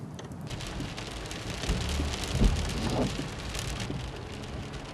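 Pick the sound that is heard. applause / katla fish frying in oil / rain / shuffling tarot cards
rain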